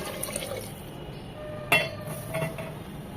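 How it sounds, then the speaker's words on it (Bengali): Boiled water is poured into a pot of moong dal, a quiet liquid pour with one sharp metallic clink of the vessel partway through. "এখন দিয়ে দিব ফুটানো পানি"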